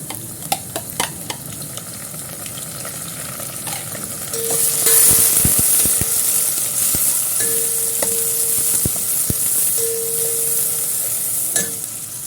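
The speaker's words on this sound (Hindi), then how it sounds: "प्याज मैंने अच्छे से भूनी है" Onions frying and being stirred in a pan, a steady close sizzle with scraping spoon strokes and a few clinks against the metal, with no talking.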